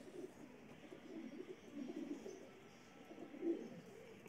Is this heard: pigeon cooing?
yes